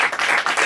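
Audience applause at a film masterclass, a steady burst of many hands clapping close by with a slightly uneven rhythm, heard alone with no voices.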